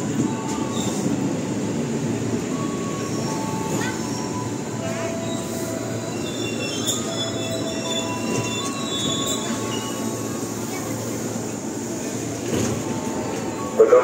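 A commuter train rolls into a station near Jakarta, Indonesia with loud, drawn-out wheel squeals and rumbling, while an Indonesian station announcement plays faintly throughout.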